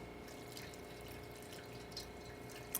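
An espresso shot drips and streams from an ECM espresso machine, a faint steady liquid trickle over a low, constant machine hum with a small clink near the end.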